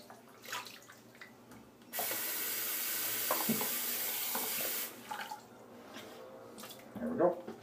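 Tap water runs steadily for about three seconds in the middle, wetting a synthetic shaving brush at a sink, with quieter handling noises before and after.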